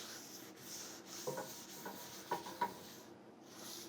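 Soft, close rubbing and scuffing as seasoning oil is worked into a cast iron pan by hand, quiet continuous friction with a few slightly sharper strokes.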